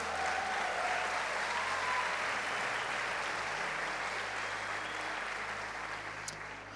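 A church congregation applauds steadily throughout, a dense wash of clapping that stays even and fairly distant, tapering slightly at the end, with no one speaking over it.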